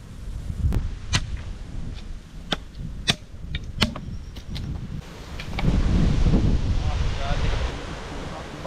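Strong gusty wind ahead of a typhoon, out in a forest at a fishing spot, rising into a loud, steady rush in the second half after a stretch of sharp scattered clicks and knocks.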